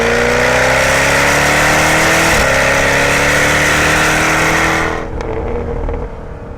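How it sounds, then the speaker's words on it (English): A 2015 Jaguar F-Type Coupe is driven hard through twisty roads, its engine loud and close and revving steadily upward with a rising whine, then easing off sharply near the end as the pitch drops away. "flogging the car around like I'm doing right now in these twisties"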